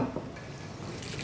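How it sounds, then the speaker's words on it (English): Water is added to freshly grated coconut to make coconut milk, giving a soft, steady trickle with light dripping and splashing, heard close up and fairly quietly, with no talking. "once the coconut's grated, you just add water to get the milk"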